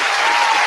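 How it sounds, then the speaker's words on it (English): A small group claps together in a casual outdoor chat setting, a brief dense burst of applause, close and even throughout. "you should clap for him for that."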